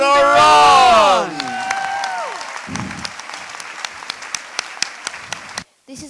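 An audience welcomes speaker Helen Doron with applause at an event. A loud voice is heard briefly first, then a broad wash of clapping thins to scattered individual claps before cutting off.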